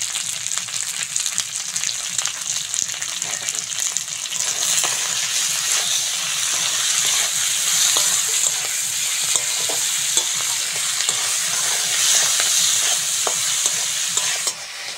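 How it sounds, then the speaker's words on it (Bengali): Onion and tomato fry in a pan with garlic and salt, giving a steady bright sizzle that swells midway. Frequent scraping stir strokes and small clinks sound close by, with no talking. "পেঁয়াজ আর টমেটোটা ভালো করে ভেজে নিয়েছি।"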